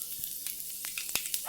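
Mustard seeds and fenugreek sizzle in a small amount of hot coconut oil, with steady frying hiss broken by sharp, scattered pops and crackles close by.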